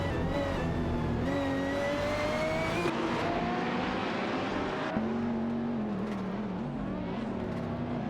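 Supercars in a racing video game, a Lamborghini Aventador SVJ and a McLaren 720S, with steady loud engine drone and rising revs that shift gears, continuous throughout with no speech.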